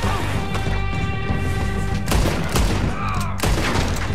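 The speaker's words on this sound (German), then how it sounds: "das waren zwei Schuss zu viel" Red Dead Redemption 2 gunfire: a few heavy, booming shots punch through a loud, dense wash of game sound and music.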